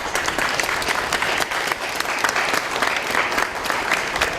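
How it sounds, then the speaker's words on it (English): An audience at a public meeting applauds Manchester Police Department officers with steady, dense clapping that stays loud and even throughout, with a faint murmur of the crowd underneath. "How about a round of applause for them?"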